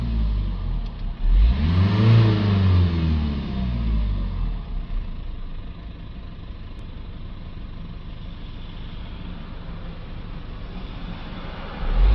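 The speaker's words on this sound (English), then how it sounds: "give it a few revs up and down." A Citroën Dispatch van's diesel engine, with a NOx sensor fault, revs up with a rising and falling roar, then settles back to a steady, rumbling idle.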